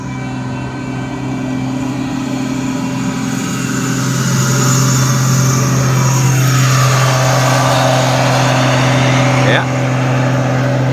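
A farm tractor rolls down the main street of a small rural Texas cotton town, its steady mid-pitched engine drone rising slightly as it nears, with a low constant rumble throughout.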